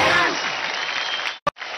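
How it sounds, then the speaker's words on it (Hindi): A crowd at a televised Indian dance competition claps loudly for a short stretch before the sound cuts off abruptly, followed by one brief sharp burst of noise. "जोरदार ताली बजाएं"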